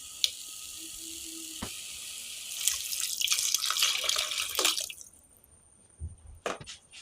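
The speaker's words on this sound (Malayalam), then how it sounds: "അപ്പം നമുക്ക് പുളിവെള്ളം ഒഴിച്ചു കൊടുക്കാം." Tamarind water poured into a pot for homemade rasam, a steady splashing pour building for a few seconds then tapering off, followed by a couple of sharp clinks; no talking.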